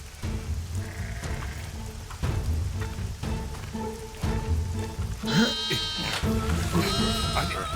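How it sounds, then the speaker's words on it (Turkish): Several sheep bleat in short wavering calls over a steady patter of rain, the bleats near and fairly loud, with a few people talking and calling in the background. "Sakin ol koyuncuk."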